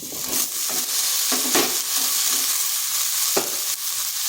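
Pumpkin pieces fry with lightly browned potatoes in a pan over high heat, a steady loud sizzle punctuated by several scraping stirs and a few clinks of the utensil, with no talking.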